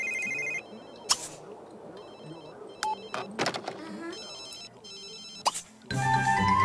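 A mobile phone rings inside The Sims 3 with a repeating electronic ringtone that plays in several short bursts, mixed with soft game ambience, a few thunks and clicks.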